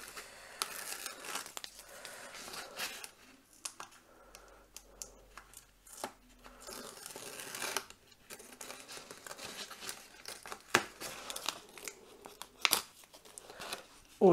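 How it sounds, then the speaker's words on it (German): Adhesive tape being handled and peeled from protective backing strips on a handmade card, a string of soft crinkles, tears and light taps up close, scattered unevenly throughout with brief quiet gaps. "Irgendwie will mein Klebeband heute nicht so wie ich."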